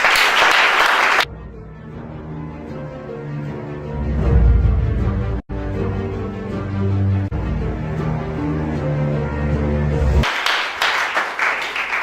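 A church congregation breaks into loud, sustained applause for about a second, then a long stretch of singing and music follows before clapping returns near the end.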